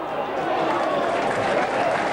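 Rugby league crowd at St Helens versus Hunslet applauding a passage of good Saints play, a steady wash of clapping and cheering that holds at an even level throughout, with commentary voices mixed in.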